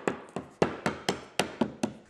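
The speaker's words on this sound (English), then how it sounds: "a lead tool is ideal for dressing the flashing, but a hammer shaft can also be used to good effect" Lead roof flashing is dressed with a lead tool or hammer shaft during roof installation, making eight or nine sharp, dull blows in quick, even succession, close and clear.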